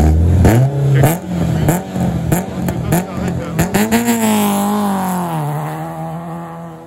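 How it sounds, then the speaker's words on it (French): Rally car engines roar loudly nearby on a rally stage, with repeated revving bursts and gear shifts, then a long rising acceleration as a car speeds past; a voice talks underneath. "ce sont les moteurs qui rugissent"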